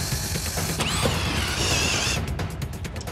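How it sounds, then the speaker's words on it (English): A squeaky floor in a renovated house creaks loudly in a long drawn-out, wavering squeal that rises and falls, then breaks into a few short clicking creaks as the board settles. "And Luke finally starts looking for the cause of that squeak."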